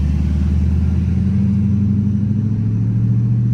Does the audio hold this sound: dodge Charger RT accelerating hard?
yes